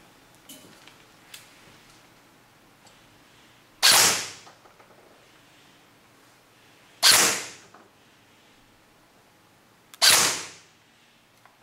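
A Ra-Tech Bolt B4A1 airsoft rifle powered by a 7.4 Li-poly battery fires three loud, sharp bursts spaced a few seconds apart, each a quick rattling blast, with faint ticks between.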